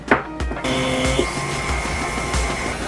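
An electric mixer creams butter with brown and white sugar for oatmeal raisin cookie dough, starting after a few clunks and then running as a steady, close whirring drone.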